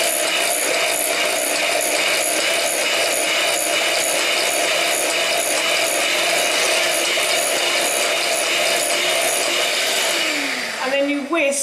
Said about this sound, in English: Whisk until all the oil has been absorbed by the egg yolk, and then you add a little bit more to the bowl.